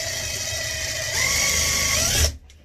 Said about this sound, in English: now I'm going to drill a hole right in the center of that hole